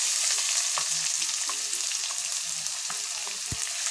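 Chopped onion sizzles steadily in oil in a skillet for a chicken pepper fry, a constant close hiss with occasional light stirring scrapes and a sharper clink near the end.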